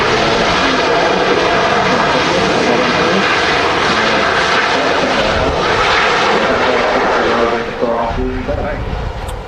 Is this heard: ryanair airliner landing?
yes